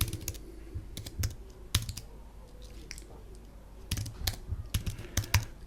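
Irregular clatter of keys on a computer keyboard as a build command is typed on an Apple Silicon Mac, quick bursts of clicks separated by short pauses, close and fairly quiet, with no one speaking.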